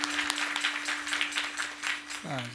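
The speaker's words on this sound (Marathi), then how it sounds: "जोरात टाळी वाजवा, जोरात टाळी वाजवा" Audience clapping loudly and rhythmically during a Marathi kirtan, a fast steady patter of applause beneath a sustained drone, with a voice speaking briefly at the end.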